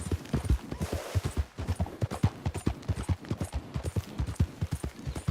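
A horse's hooves clop in a steady trotting rhythm in Red Dead Redemption 2, with close, evenly spaced thuds going on without a break and no voices.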